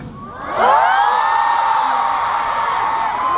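A concert crowd at a show bursts into loud cheering and high whoops that swell suddenly and hold near, with a voice briefly heard at the start.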